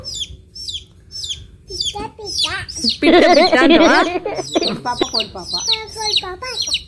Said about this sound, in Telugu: కోడి పాప అంటావా?